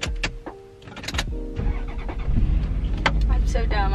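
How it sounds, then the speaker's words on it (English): A car engine cranks and catches, then runs with a rising, steady rumble over the last couple of seconds, close by, with brief clicks and a voice at the start. "I just tried to turn on the car by turning the thing left."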